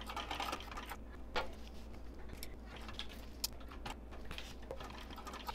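A sewing machine stitches around a zipper on a small clutch bag, a quiet, steady mechanical whir with light clicks, faint and close with no talking.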